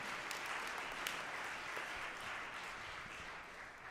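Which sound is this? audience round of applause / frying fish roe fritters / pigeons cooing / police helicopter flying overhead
audience round of applause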